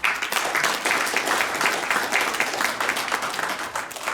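Party members at a New Year gathering applaud to welcome an elderly speaker, a dense, even round of clapping filling the room from start to finish.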